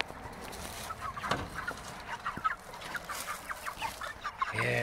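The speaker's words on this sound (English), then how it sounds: "we'll check on these meat birds real quick" Meat chickens cluck in a coop at night, a soft, irregular scatter of nearby clucks and murmurs from several birds, with a louder noise at the very end.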